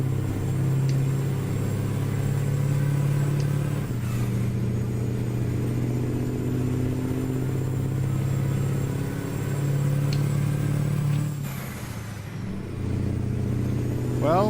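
A Mack Superliner truck engine in a trucking game hums at a deep, steady idle-to-rev drone, loud and close, with the pitch shifting slightly as it revs for the whole stretch.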